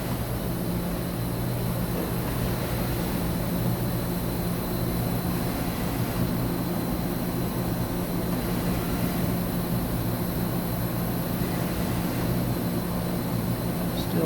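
A 2013 Mazak HCN 4000-III horizontal machining center runs an axis at 50% rapid traverse, giving a loud, steady mechanical hum and whir with faint periodic surges as the axis moves back and forth.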